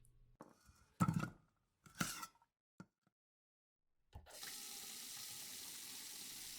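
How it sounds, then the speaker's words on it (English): A few brief clatters and knocks give way to a steady broadband rush of liquid being poured into a bowl, running on loudly and alone to the end. "Will you pour these into that bowl?"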